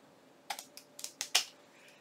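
Scissors trim a handmade journal topper up close, giving a quick series of about six crisp, dry snips in an irregular rhythm over a quiet background.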